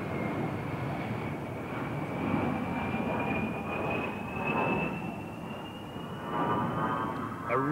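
A-10 Thunderbolt jet aircraft flying past at the RAF Mildenhall airshow, a steady distant roar with a thin high whine slowly sliding in pitch, moderately faint and continuous.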